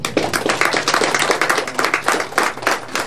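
An audience in a Beninese studio claps during a political broadcast with LD party deputies, loud close rhythmic clapping that pulses in bursts with no speech over it.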